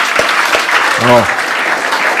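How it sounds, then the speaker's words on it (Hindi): An audience in a lecture setting claps on request, a steady wash of applause with a voice briefly heard over it midway. "एक बार ताली बजाओ सभी लोग"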